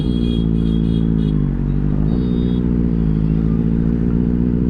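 A Benelli 600i four-cylinder superbike engine runs steadily with a deep, even drone and a slight rise in pitch midway, close and loud without speech.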